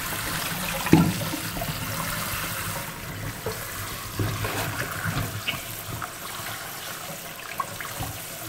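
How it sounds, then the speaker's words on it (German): Potatoes and vegetables are washed under running water, a continuous splashing trickle broken by a few soft knocks and clunks of produce against the sink. "So, die Kartoffeln und das Gemüse ist gewaschen."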